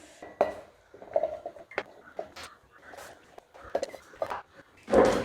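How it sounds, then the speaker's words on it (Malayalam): Chopped, seeded jackfruit pieces tipped into a mixer grinder jar for jackfruit ulli vada, giving a run of close, uneven clatters and knocks with a louder rattling burst at the end. "കുരു കളഞ്ഞ് അരിഞ്ഞു വെച്ചിട്ടുള്ള ചക്ക നമ്മൾക്കൊരു മിക്സിയുടെ ജാറിലേക്ക് ഇട്ട് കൊടുക്കാം"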